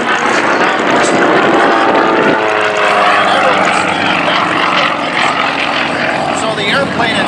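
Sukhoi Su-29 aerobatic plane flying a routine at the Madras air show, its propeller engine droning loud and steady throughout, pitch shifting midway as it maneuvers, with a commentator talking over it.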